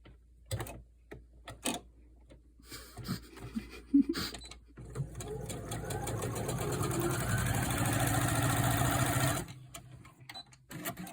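A sewing machine runs a steady burst of several seconds while stitching half square triangles, framed by quiet clicks and handling of fabric, close and fairly soft with no talking.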